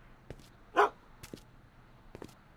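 A dog in the Back to the Future adventure video game gives a single short, sharp bark amid quiet game ambience, with a few faint clicks around it.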